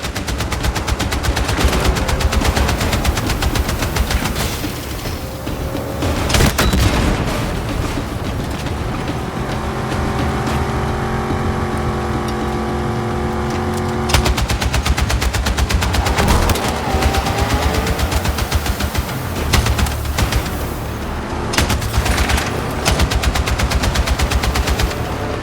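Sustained, loud automatic gunfire in the Battlefield 6 video game campaign, continuous rapid bursts with a brief lull mid-way, no talking.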